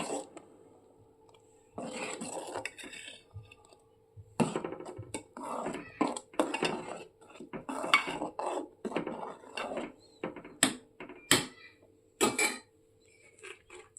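Rice pudding made with milk and date-palm jaggery is stirred in a pot, giving intermittent scraping and clinking of a spoon against metal in irregular bursts separated by brief quiet gaps.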